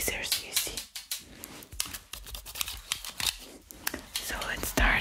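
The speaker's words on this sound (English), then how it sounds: "I have these magic scissors" Sharp scissors snip repeatedly in quick, close, crisp cuts with an irregular rhythm, alongside soft whispered speech in a quiet ASMR setting.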